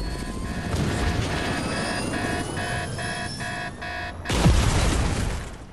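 A helicopter in an online video game whirs with a steady rotor drone and rhythmic pulsing, running continuously. Near the end a deep boom cuts in, and no voices are heard.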